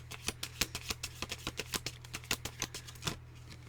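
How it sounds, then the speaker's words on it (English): Tarot cards are shuffled in quick riffling bursts of soft papery flicks, close and quiet, with a low hum in the background. "the cards are harder to shuffle then"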